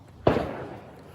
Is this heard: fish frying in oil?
no